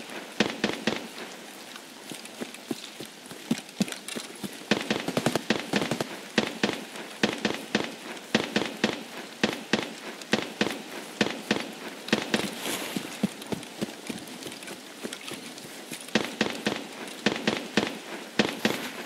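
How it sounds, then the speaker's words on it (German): Rapid bursts of distant gunfire crackle in the shooter game Escape from Tarkov, sharp repeated cracks in irregular volleys that continue steadily throughout, with rain falling in the background and no talk. "Da hat jemand aber Spaß beim Schießen."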